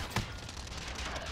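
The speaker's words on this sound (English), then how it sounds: "They're shooting at me." Gunfire in the Call of Duty: Modern Warfare video game, a single sharp near shot followed by a dense, steady wash of distant battle noise.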